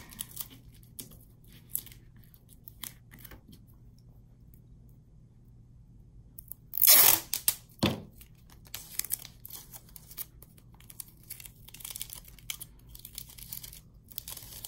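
Tape torn from a roll for a cardboard sculpture project: one sharp, loud ripping tear mid-way, then a brief second rip, with quiet handling crinkles and soft rustles before and after in a quiet room.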